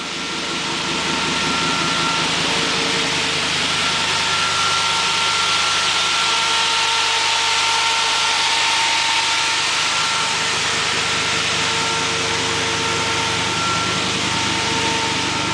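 Chevrolet Colorado five-cylinder engine idling in a 1955 Chevy Shorty Wagon build at its first start, a steady, fairly loud close-up hum with a faint pulsing rhythm throughout.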